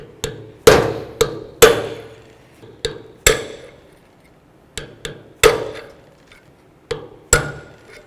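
Old door hinge bushings are hammered out of a 2006–2012 Ford Fusion hinge, a series of sharp metallic strikes in an irregular rhythm, about a dozen blows with short ringing decays, close and loud.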